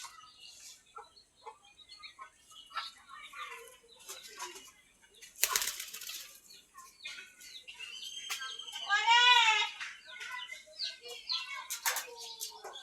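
Pigeons stirring inside their coop: bursts of wing flapping and fluttering with scattered coos and chirps, plus one sharp, loud flurry of wingbeats midway, all fairly close.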